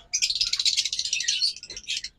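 A pair of green opaline pet birds chirps in a steady, busy stream of high tweets close by, with no talking.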